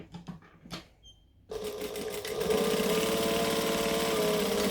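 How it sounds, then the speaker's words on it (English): Sewing machine sewing a costume seam, starting with a few short clicks and handling taps, then a steady close motor whir of stitching along that settles into an even drone after a brief back stitch. "Back stitch, stitch along, back stitch, cut this one off"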